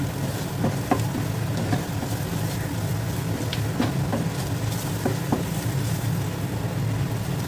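Spices with a spoonful of turmeric frying in a pan for prawn moilee while being stirred: a loud, constant hiss with occasional scraping clacks of the stirring utensil throughout.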